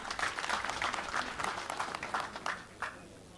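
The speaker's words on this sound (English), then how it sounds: "Let's give him a round of applause." A crowd applauds at an annual trade fair in Opuwo, a short round of steady clapping that fades out after about three seconds, heard at moderate distance with no talk over it.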